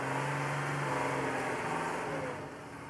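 A Mercedes-Benz Unimog engine climbing a steep 60% slope with steps: a steady mid-pitched motor drone and whir, fairly even and close, easing slightly toward the end, with no talk over it.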